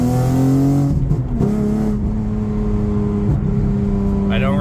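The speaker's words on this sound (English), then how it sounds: "it's still fun just revving it to like 6 grand" The engine of a fourth-generation Acura TL without an exhaust tune holds a steady loud drone, then its pitch climbs and shifts as it revs toward about 6,000 rpm. A voice talks underneath.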